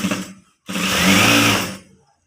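A sewing machine runs a straight stitch in a short, loud burst, preceded by a brief sputter and a pause, then a sustained close whir that stops.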